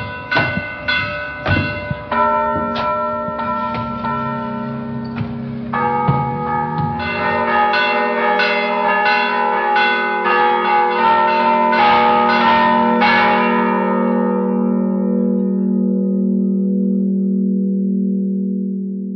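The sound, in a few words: two church bells being rung, including the big one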